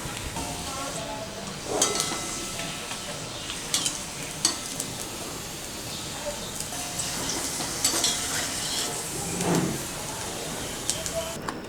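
Sabudana and potato papad and chakli for fasting deep-fry in oil, a steady broadband sizzle with occasional sharp clatters of a utensil against the pan, while a voice talks over it.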